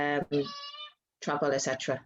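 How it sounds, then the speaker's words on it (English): A domestic cat meows in a drawn-out, high cry that sits between stretches of close conversational speech, with people talking before and after it. "So if you hear a cat meowing,"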